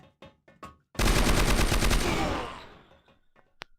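Gunfire in the video game Crossfire: a few single shots, then a loud sustained burst of rapid automatic fire lasting about two seconds that tails off, followed by scattered clicks and one more sharp report.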